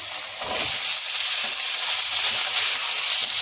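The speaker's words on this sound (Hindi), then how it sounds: "अब डाल देंगे इसमें ये मिर्ची। मिर्ची को थोड़ा सा हल्का से करना है। डालेंगे अब आलू।" Potatoes tipped into a pan of frying garlic and green chilli, setting off a steady, loud sizzle with soft stirring scrapes throughout, no voices.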